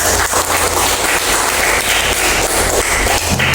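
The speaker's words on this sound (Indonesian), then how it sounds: "Tepuk tangan para kawan ya" A class of students in a physical fitness lesson claps together, a dense, continuous round of applause close by that holds steady for several seconds with little talk.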